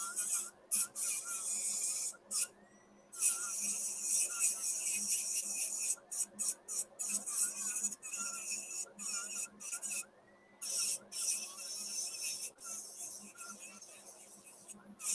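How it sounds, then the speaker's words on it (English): Abrasive paper held by hand rubs against the inside of a wooden turning, giving a continuous raspy scratching broken by short pauses, fairly close and moderately loud with no talking. "I'm going to sand the insides a little bit here as well."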